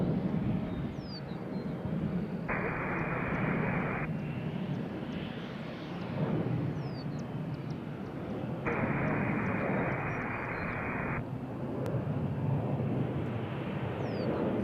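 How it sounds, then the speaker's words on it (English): An airliner takes off from runway 20 at Nashville International Airport, its engines a broad, steady distant roar that fills the whole stretch, with faint bird chirps and other noises over the top. "This will be our next takeoff on 20"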